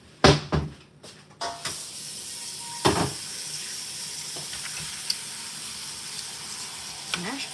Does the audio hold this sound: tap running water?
yes